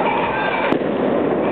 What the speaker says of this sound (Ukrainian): Пішла петарда.